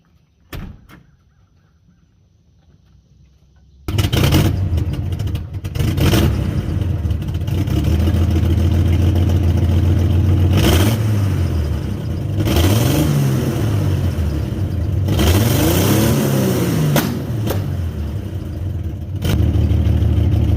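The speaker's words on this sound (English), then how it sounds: "Fire this thing up, give her a listen." A Jeep running on five cylinders cranks and catches after a few quiet seconds, then idles loud and rough with several rising and falling revs, heard close with no talking.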